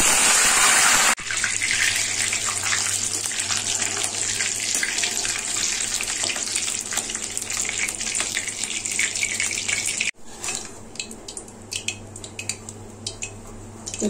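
Curry leaves sizzle in hot oil in a pan for chana dal namkeen, a loud, steady hiss that crackles throughout, briefly cutting out near the end before resuming with sharper pops.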